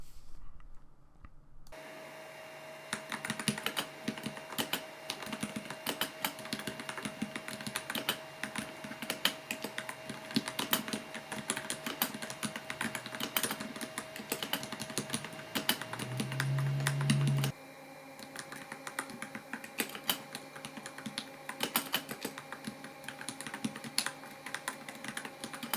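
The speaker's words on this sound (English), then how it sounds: "So there you could hear typing" Steady, rapid typing clatters on a computer keyboard resting on an ergonomic wrist rest with fans. A low fan hum runs beneath the dense key clicks, and the fan tone shifts partway through as the mode changes.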